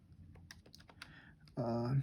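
Keystrokes on a computer keyboard while entering a calculus expression, a light irregular run of clicks that gives way to a louder, steadier burst near the end; no voices are heard.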